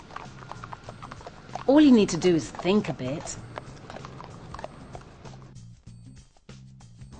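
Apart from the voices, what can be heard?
horse hooves clip-clopping on road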